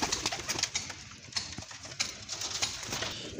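Pigeons coo close by in a steady stream of soft, throaty calls, several birds overlapping in a repeated rhythmic pattern with faint rustling behind them.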